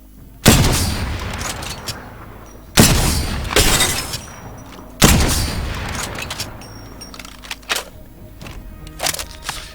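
Three loud, sharp precision rifle shots from the shooter game Apex Legends crack out about two seconds apart, each followed by a long ringing tail, with fainter clicks and mechanical handling noises trailing after.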